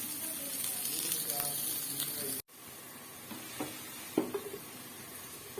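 Onions sizzle and fry in a pan for a fish curry, a soft steady crackling hiss, interrupted by a brief cut and then quieter frying with occasional pops and stirring clicks.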